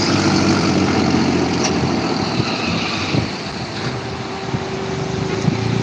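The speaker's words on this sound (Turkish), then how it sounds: "traktörümüz gidiyor" Tractor engine pulling away at a bus terminal, a steady loud diesel rumble with broadband noise holding throughout, alone without talk.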